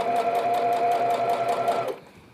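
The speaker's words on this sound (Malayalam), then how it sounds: "ഇപ്പുറത്തെ സൈഡിൽ ബാക്കി പകുതി ഈ സൈഡിൽ നിന്ന് സ്റ്റിച്ച് ചെയ്യാം" A sewing machine stitches fabric for a homemade newborn carry nest, a close, steady mechanical whir with rapid rhythmic needle pulses for about two seconds before it stops.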